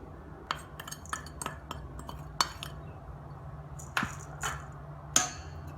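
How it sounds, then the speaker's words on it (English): Powdered sugar being stirred into coconut cake batter with a utensil, giving scattered light clinks and taps against a bowl at an irregular pace over a steady low hum. "First we'll add the powdered sugar and mix it well"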